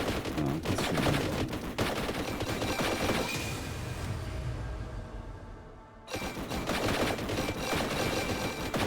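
Video game gunfire from Warhammer Survivors, dense rapid bursts of shots and impacts blasting loudly, briefly thinning to a quieter stretch before a sudden return to heavy continuous fire.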